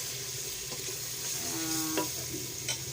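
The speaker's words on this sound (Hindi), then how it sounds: "और अब हम थोड़ी सी इसमें डाल देंगे दही" Chicken karahi masala sizzles and fries steadily in a pan as yogurt is added and stirred in, with a few soft clinks and scrapes over the continuous crackle.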